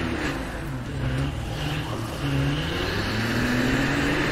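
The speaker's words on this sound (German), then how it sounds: "Ich geb Gas, ich geb Gas." A car in State of Decay 2 accelerates with a loud, steady engine drone that rises in pitch as it speeds up, close and continuous with no talk.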